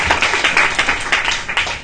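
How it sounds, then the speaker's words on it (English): Audience applause at a social media meetup, a brisk burst of many hands clapping in an irregular patter, close and fairly loud. "give an applause anyways"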